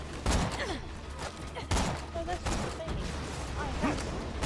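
Gunfire in the video game Borderlands 2 comes as several sharp shots and bursts over a few seconds, with voices talking throughout the firefight.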